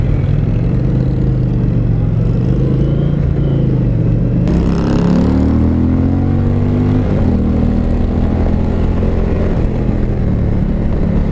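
A 2020 Indian Challenger motorcycle accelerates onto the freeway, its engine note climbing through gear changes under heavy, constant wind rush, loud and close throughout.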